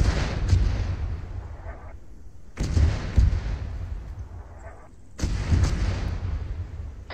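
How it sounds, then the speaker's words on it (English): Mortar fire in the military game Arma 3: three heavy booming blasts spaced a few seconds apart, each with a long rumbling decay, loud and fairly distant-sounding, with no talk. "I think those are Arties. No, that's mortars."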